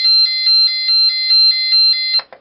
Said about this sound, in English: And ambulance.